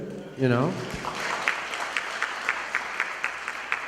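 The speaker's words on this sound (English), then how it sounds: "You can applaud that." After a voice rises and stops, an audience at a principals' training session breaks into applause, moderate clapping with distinct sharp claps repeating at a steady pace.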